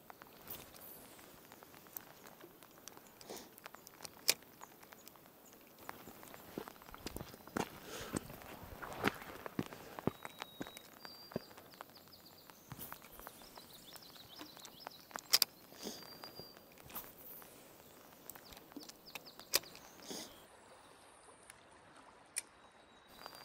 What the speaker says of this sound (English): Rain's picking up, starting to soak my iPhone